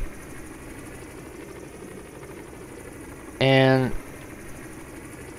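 Helicopter engine idling in Flight Simulator 2020, a steady, even drone that runs throughout, with a single short spoken word breaking in partway through.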